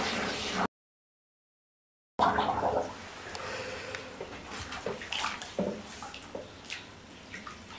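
Bathtub water sloshes and gurgles as someone goes underwater wearing a waterproof iPod case, a muffled close churning with drips and bubbling after a brief silent gap.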